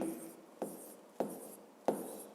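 Chalk or pen writing on a board during a physics lesson: a steady scratchy stroke sound broken by four sharp taps as strokes restart, close and moderately loud.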